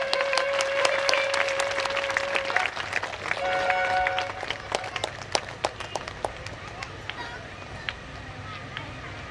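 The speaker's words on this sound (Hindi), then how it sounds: "उनका सम्मान के साथ तालियां बजाई जाए।" An audience at a Bhagavat recitation in Ahmedabad breaks into applause, clapping steadily for several seconds before it thins out into scattered claps, with a sustained tone at the start.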